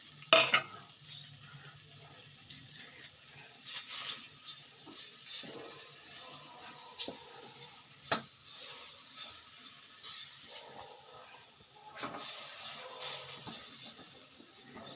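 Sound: sautéing gujiya filling in a pan on low flame

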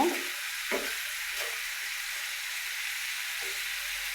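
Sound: stirring snake gourd frying in a pan with salt

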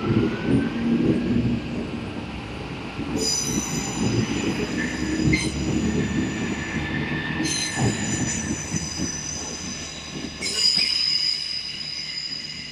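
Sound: Great Western Railway train pulling away, Portsmouth Harbour

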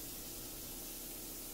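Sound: spray painting drawers

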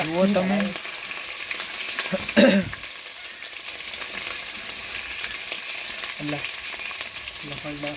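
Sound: garlic frying and being stirred in a pan

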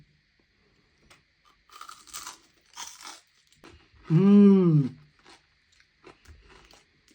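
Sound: biting and chewing crispy Filipino bagnet (fried pork belly)

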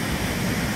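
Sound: water of the Reno river rushing through an overflow channel

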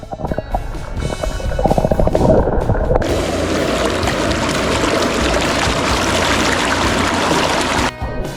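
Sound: valley stream flowing at campsite

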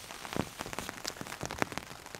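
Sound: rain falling on a tarp canopy

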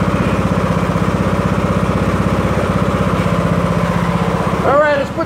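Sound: tractor mower engine running, hooked up to drywall lifting frame

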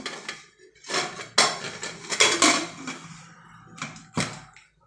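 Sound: pressure cooker lid being closed

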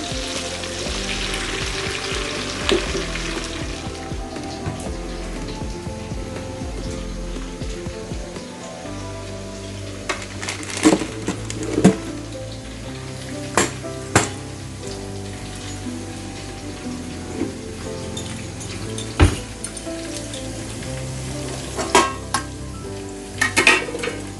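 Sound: onion frying in a pan

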